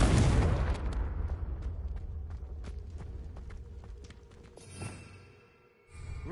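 A Confringo fire spell bursts in a Hogwarts video game, opening with a loud, close blast that decays into a fading rumble, followed by a few scattered lighter thuds and a small swell near the end.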